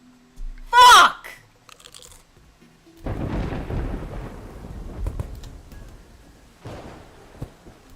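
Rain and thunder in the video game Terraria: a loud sharp crack near the start, then a dense rushing roar of heavy rain with rumbling swells that keeps going through the rest.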